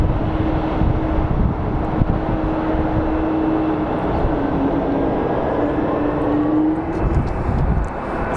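A Boeing 767-200 cargo jet operated by ABX Air for Amazon roars steadily at Phoenix Sky Harbor airport, a broad sustained engine rumble with a faint whining tone and some wind buffeting on the microphone.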